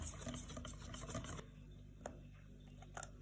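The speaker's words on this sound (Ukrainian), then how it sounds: "І тепер молоко, яке в нас залишилось. Не все відразу, а порціями додаємо і перемішуємо." Milk being stirred into green pancake batter in a bowl, added a little at a time, makes a steady close scraping, swishing sound with soft clinks and no talking.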